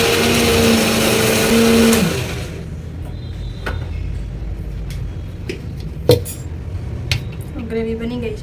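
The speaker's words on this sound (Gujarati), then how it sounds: "હવે કરી દઈશ બ્લેન્ડ." A kitchen mixer grinder whirs loudly as it blends cooled gravy for a paneer curry in its jar, then cuts off after about two seconds, leaving quiet room sounds and a few small clatters.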